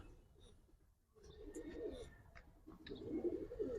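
Giribaz and Pangkhi pigeons at a bird market coo softly in a few low throaty bursts, near and fairly quiet, with faint chirps and background clatter.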